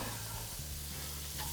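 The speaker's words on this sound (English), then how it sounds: "But onions are going right in." Onions sizzle in melted butter in a cast iron pan, a loud continuous frying hiss with a steady low hum underneath and a brief stirring scrape.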